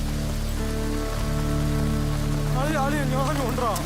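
Rain falling during a scene in the Malayalam film Oru Adaar Love, a steady soft wash running beneath music and a melodic vocal line that grows more prominent toward the end.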